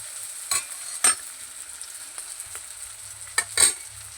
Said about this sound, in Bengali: এবার আমি ভালো করে ভেজে নেব